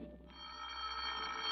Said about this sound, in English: you sit at home quietly in the chair by the phone, waiting for it to ring